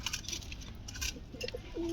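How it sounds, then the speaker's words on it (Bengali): Bombay pigeons brooding eggs in a loft give soft, low coos, with a short sustained call near the end among light scattered noises. "এখানে দেখতে পাচ্ছি এক জোড়া বোম্বাই"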